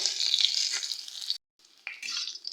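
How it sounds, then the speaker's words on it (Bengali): Cauliflower frying in a pan, a steady bright sizzle with light stirring, briefly cut to silence before the hiss resumes, close and fairly loud with no talking. "ফুলকপিটা কিন্তু ভাজা ভাজা হয়ে আসছে আর একটুখানি আমি ফুলকপিটা ভেজে নেব"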